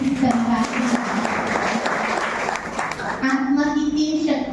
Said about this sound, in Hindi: आप सभी अपने भाग के लिए ताली बजाइए